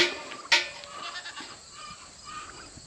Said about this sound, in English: I let the goats out last night.